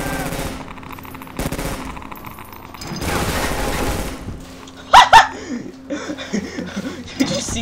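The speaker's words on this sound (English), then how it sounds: "His SMG was still shooting when I fucking murdered him." Submachine gun fire in the Half-Life 2 Overcharged mod comes in loud, rapid bursts mixed with other game sounds, with a couple of sharp shots near the end.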